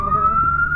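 A fire engine siren holds a single steady rising wail, loud and close, as the truck arrives at a fire at a waste dump in Caotun, Nantou.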